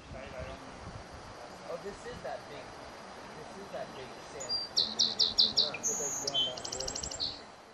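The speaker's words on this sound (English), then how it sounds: "This much smaller bird has a short beak of a seed eater." A small bird sings a quick series of high, bright chirps, several in a row, then a trilled phrase, fairly close over quiet background.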